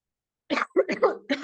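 A short burst of coughing, three or four rough coughs in quick succession, close and fairly loud against silence.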